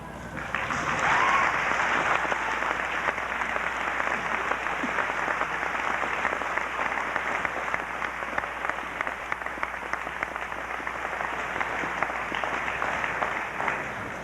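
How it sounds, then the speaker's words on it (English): A large audience at a high school graduation claps continuously and evenly, a dense wash of applause that holds steady from start to finish. "Give them one more round of applause."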